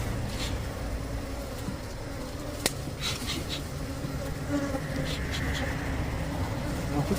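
Honeybees at an opened beehive buzz continuously and fairly close, with individual insects flying by and a brief click partway through.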